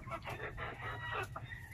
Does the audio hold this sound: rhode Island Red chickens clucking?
yes